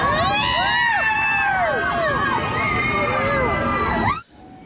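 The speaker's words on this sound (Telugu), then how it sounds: "టన్నల్స్ నుంచి పాస్ అయ్యేటప్పుడు చాలా గోలగోలగా అరుస్తూ ఉంటారు" Crowd of passengers on a train to Araku shouting and whooping together as it passes through a tunnel: loud, overlapping yells and cheers that echo, then cut off abruptly near the end.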